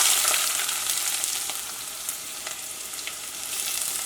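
Onion, ginger, garlic and green chilli sauté in hot coconut oil with a bright, continuous sizzle, close and fairly loud, with faint stirring scrapes now and then.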